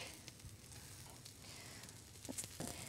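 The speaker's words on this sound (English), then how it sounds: "I hear them sizzling." A soft, crackling sizzle of shredded parsnip pancakes frying in a pan, faint and continuous with a few small pops.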